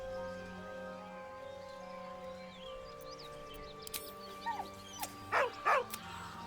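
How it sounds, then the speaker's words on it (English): A dog in the Baldur's Gate 3 game gives a few short, soft whines and yips near the end, over quiet ambient music and low background tones. "With a deep, heartbroken whine, the dog bows his head."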